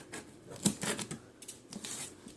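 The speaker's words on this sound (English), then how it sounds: "this one is stuck to the tape, so I'm just gonna grab my scissors" Scissors snip and slide through packing tape stuck to a DirecTV equipment return box, making several short, close, crisp cutting and rustling strokes.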